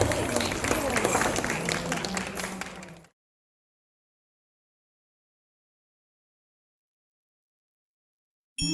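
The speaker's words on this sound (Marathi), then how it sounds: "टाळ्या वाजवून एकदा स्वागत करायचंय त्यांचं." An audience claps and applauds loudly for about three seconds to welcome a group of women performing a Mangalagaur dance at a society Satyanarayan Pooja, followed by a long silence and a brief burst at the end.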